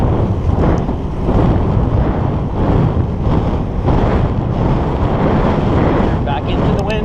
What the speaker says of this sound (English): Dealing with the crosswind, slight cross headwind.